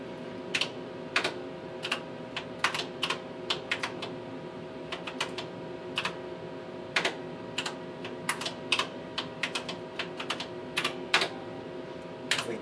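Typing on the keyboard of a Tektronix 4051 computer, a steady run of crisp, close keystrokes in irregular bursts with short pauses, over a faint constant machine hum and no talking.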